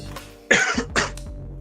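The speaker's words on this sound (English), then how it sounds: "I've just started coughing." A person coughs close to the microphone, with one hard cough followed by a couple of quieter throat-clearing coughs, and no talking.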